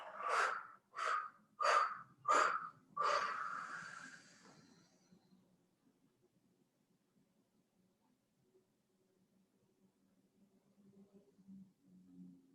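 Five forceful exhalations through the mouth during a yoga session come in an even rhythm, close and loud, followed by near silence with faint low room noise.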